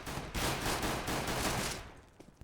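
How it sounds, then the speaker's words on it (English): Rapid bursts of automatic rifle and pistol fire from Counter-Strike on the Dust 2 map during a pro match, dense overlapping shots for about two seconds that then thin out and fade, with no talk. "he opens up on Phantom Jesus already. Wrath gets a return frag"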